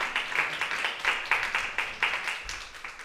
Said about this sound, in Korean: 다시 한번 감사의 박수 올려드릴까요?